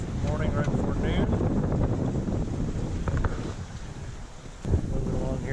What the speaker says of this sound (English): We are finally sailing. Picked up some wind